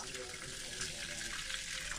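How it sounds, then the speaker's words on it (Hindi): Water pours steadily into a pot of pulao rice set to soak in a home kitchen, a continuous splashing gush at close range with no one talking. "तो सबसे पहले मैं पानी डाल देती हूँ।"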